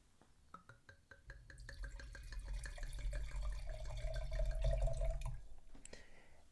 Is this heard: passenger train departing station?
no